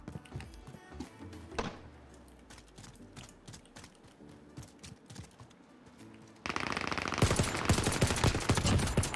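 Rapid automatic gunfire from a first-person video game shooter, bursts of repeated shots, brief pauses with clicks and movement, then a loud sustained barrage of dense firing near the end.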